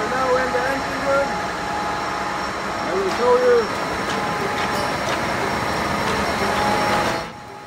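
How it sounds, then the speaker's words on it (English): Machinery in a ferry's engine room runs with a constant, heavy mechanical drone and steady hum, while someone speaks briefly over the noise near the end. "we are now in the engine room"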